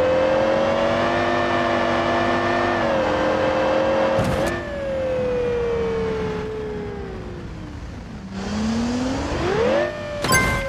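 Aston Martin engine in the BeamNG Drive driving game revving hard and shifting, its loud tone rising and falling continuously with no talk.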